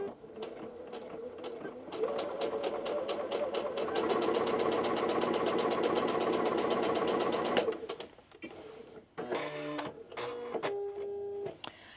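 A sewing machine runs a quarter-inch seam on an apron at a 2.5 stitch length, whirring in a fast, steady stitching rhythm for about six seconds before stopping, followed by a few light clicks and handling sounds.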